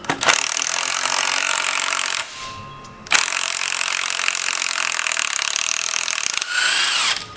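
Milwaukee M12 cordless power tool running in loud, sustained bursts while installing an alternator relocation kit during an engine swap, with a short pause near the middle and a revving change at the end.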